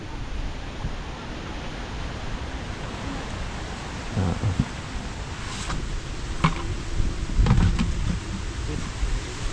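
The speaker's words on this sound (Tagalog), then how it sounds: "Thunderstorm yata yan." A thunderstorm over farmland, with steady rain hissing throughout and low thunder rumbling in a couple of swells, fairly loud and outdoors with no voices heard.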